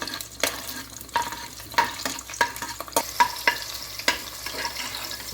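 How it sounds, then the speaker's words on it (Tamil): Small whole onions sautéing in hot oil in a pan for country chicken biryani, a steady soft sizzle broken by recurring scrapes and clinks of a spoon stirring against the pan. "வெங்காயம் நல்லா வதங்கி வரட்டும்"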